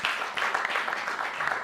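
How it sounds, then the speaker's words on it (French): Audience applause at a French-language gathering, a steady, moderately distant patter of many hands clapping with no speech over it. "On applaudit quand même."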